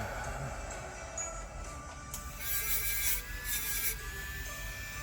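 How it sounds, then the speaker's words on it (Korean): A rotating brass wire brush working an earring part gives a steady close-up scratchy rub, with brighter hissing surges in the second half. "그래서 그런 때는 이 황동 철솔로 돌려서 해줍니다."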